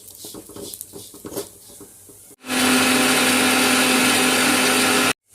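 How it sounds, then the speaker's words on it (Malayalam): A kitchen mixer grinder (mixie) grinding spices for curry bursts on loudly after quieter kitchen clatter, then runs as a steady, dense whirring roar with a constant motor whine for several seconds before cutting off abruptly. "ഞാൻ മിക്സിയിൽ അടിച്ച് കണ്ട് ചേർത്ത് കൊടുക്കാം"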